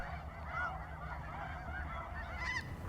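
Snow geese on the Fraser and Skagit River deltas just back from migration, a flock honking in repeated nasal calls, fairly faint and distant over a low background rumble.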